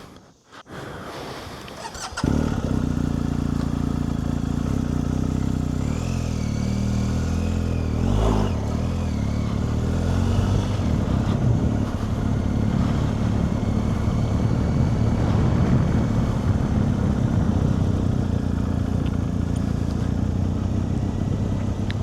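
A motorcycle rides on a wet road among trees, beginning with a short quiet stretch before the engine and wind noise rise to a steady, loud drone with slight changes in pitch.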